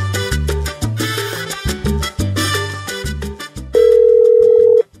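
Phone call placed through Google: outgoing ringback tones and a short musical connection jingle, ending in a sustained steady tone, loud and clear with no talking.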